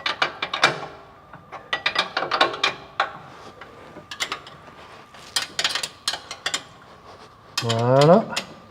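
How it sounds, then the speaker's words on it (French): A 13 mm wrench ratchets as it tightens an 8 mm screw while a zip drill box is assembled, giving close, crisp runs of clicks in irregular bursts, followed by a short squeaky metallic creak. "Je vais serrer ma vis de 8."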